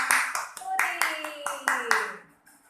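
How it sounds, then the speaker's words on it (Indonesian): Children clap along to a Sunday-school song, about nine sharp, evenly spaced claps, with singing voices running underneath. "Kalau kau anak Tuhan, tepuk tangan"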